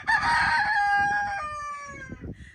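A rooster at a village home crows loudly and close, one long drawn-out cock-a-doodle-doo that fades out, with some clucking and faint background noise after.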